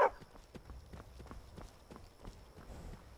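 Horse hooves clip-clop in a steady walking rhythm in Skyrim, a series of close, distinct knocks on the ground at moderate volume, with no talk over them.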